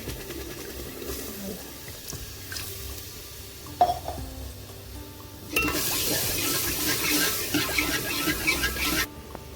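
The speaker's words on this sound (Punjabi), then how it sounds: "ਆਪਾਂ ਇਹਦੇ ਵਿੱਚ ਗਲਾਸ ਪਾਣੀ ਦਾ ਪਾ ਦਾਂਗੇ" After some quiet kitchen clatter, water splashes into a pan of spice masala for a milk-based pumpkin curry in a steady, close pour lasting several seconds before stopping.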